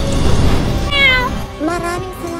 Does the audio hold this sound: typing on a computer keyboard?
no